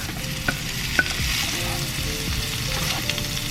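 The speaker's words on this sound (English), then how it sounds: "it's gonna get more crispy once I throw in tomatoes." Crispy bacon frying with tomatoes, jalapeños and onions in a pan: a loud, steady sizzle and crackle, with a couple of sharp utensil taps near the start. No one speaks.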